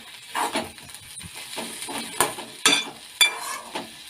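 Tomatoes sauté in a pan for tomato chutney, giving a soft sizzle broken by repeated stirring scrapes and a few sharp clinks of a utensil against the pan, with no talk.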